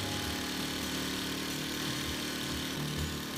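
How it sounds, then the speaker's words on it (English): A portable petrol generator engine running steadily as it warms up, a loud continuous mechanical drone with a buzzing high-pitched whine and no talk. "As the engine warms up"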